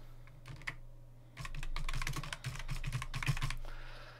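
Keys clatter on a computer keyboard in a quiet room, a few isolated taps followed by a quick, dense run of typing that stops abruptly.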